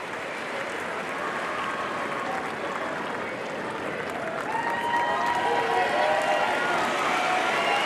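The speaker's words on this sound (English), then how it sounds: "There's a standing ovation for Federer." A big tennis crowd gives a standing ovation, a steady, sustained wash of clapping from many hands with cheering mixed in, filling the arena evenly from start to finish without pause.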